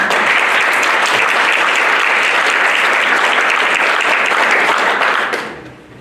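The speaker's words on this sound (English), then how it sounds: "I would go ahead and give him applause" Loud, dense applause from a large audience at a family physicians' presidential installation, sustained evenly for several seconds before fading away quickly near the end.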